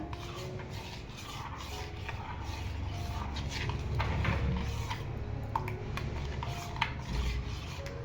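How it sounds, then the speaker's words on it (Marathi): Aamras, mango pulp with a couple of spoonfuls of sugar added, stirred steadily with a spoon in a bowl. It makes a continuous soft scraping and rubbing sound, close and fairly quiet, with a few light clinks. "याला चांगलं आता ढवळून घेऊया"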